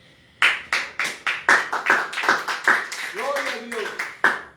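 A church congregation claps in an even, fast rhythm, a dozen or so bright sharp beats, loud and close, while a worshipper's voice rises and calls out over the clapping.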